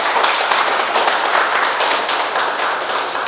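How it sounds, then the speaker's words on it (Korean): An audience at a political talk applauds the speaker with dense, steady clapping that stays even in loudness for about three seconds, no voice heard over it. "고생길인데 박수를 쳐주셔서 감사합니다."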